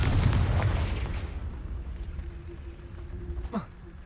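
A spell explosion in the Hogwarts Legacy video game: a loud, broad blast at the start decays into a rumbling tail, then a short sweeping whoosh near the end.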